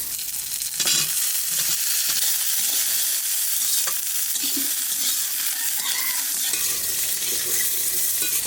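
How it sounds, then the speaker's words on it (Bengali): Green chillies and garlic fry in a pan with a continuous close hiss and crackle, and a spoon scrapes and stirs through the oil now and then. "কাঁচা লঙ্কা রসুনটা একটু ভেজে নিয়েছি"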